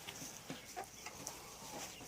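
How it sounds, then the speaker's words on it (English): A rooster on a chicken farm gives faint, brief clucks and short calls against a quiet yard hum, scattered irregularly and heard from a short distance. "There's a rooster."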